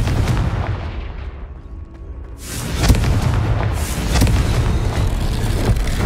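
A Confringo blast curse explodes in the video game Hogwarts Legacy, with a loud booming impact and rumbling burst that recurs over the fading echoes, no speech.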